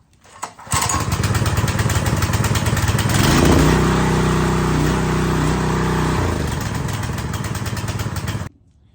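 A new Husqvarna gas pressure washer engine catches after a brief pull, then runs loud and steady close by for several seconds before cutting off abruptly.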